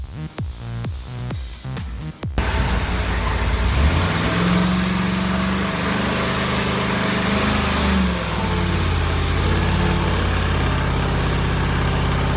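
A carbureted 500 cubic inch Cadillac V8 fires up on an engine dyno after a brief starter crank, then runs loud and close with rising and falling revs and a steady roar.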